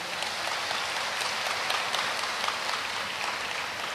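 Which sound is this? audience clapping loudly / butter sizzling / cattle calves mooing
audience clapping loudly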